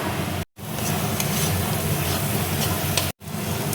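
Masala with Kashmiri chili powder frying in a pan, a loud steady sizzle with stirring, broken by two brief cuts to silence.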